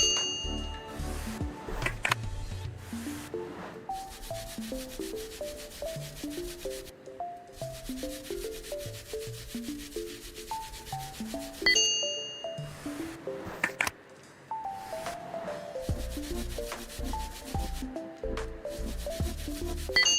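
A dirty phone is rubbed and wiped in continuous scrubbing strokes, with occasional soft clinks and taps, close and quiet with no talking.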